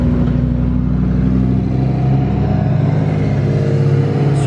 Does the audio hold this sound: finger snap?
no